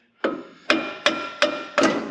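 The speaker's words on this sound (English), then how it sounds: "I just need to knock it over with a hammer" Five sharp hammer blows striking metal, evenly spaced and close, each ringing briefly before the next, knocking a part into place while installing a leveling kit on a 2019 Ford F-150.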